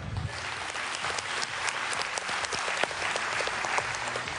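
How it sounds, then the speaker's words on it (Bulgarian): Studio audience applauding at a televised talent show magic act, steady dense clapping throughout, moderately loud with a few sharper individual claps standing out. "Аплодисменти, моля."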